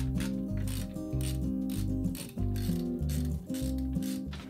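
Ratcheting wrench clicks come from removing bolts on the timing cover of a 454 boat engine, with repeated fast ratchet bursts in a steady rhythm, close and clear, briefly pausing between strokes.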